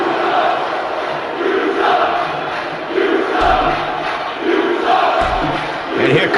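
Crowd at a live independent wrestling show jeering a wrestler as he taunts them, a steady broad roar with swelling waves of voices and a couple of low thumps.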